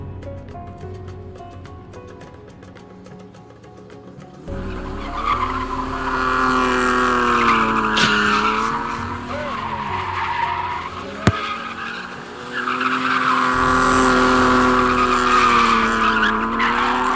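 Car tires skid and squeal loudly in the cold while the front bumper pushes frozen, hardened cones, a sustained screech with engine strain that swells after a quiet start, dips briefly midway, then surges again.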